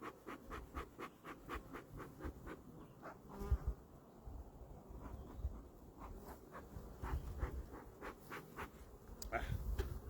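Honeybees buzz steadily around a hive, a dense, continuous drone close to the microphone, with occasional brief scratches and bumps from someone working nearby.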